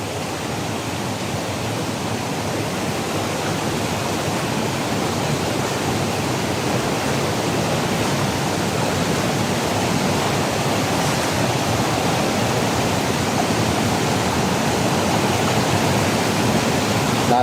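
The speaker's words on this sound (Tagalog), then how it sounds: "Talagang sobrang lakas ng tubig dito. Dito nang gagaling sa malaking bato na to." Strong, clear fresh water rushes down from a big rock in Mindoro after a typhoon, a loud, dense, unbroken roar that holds steady throughout.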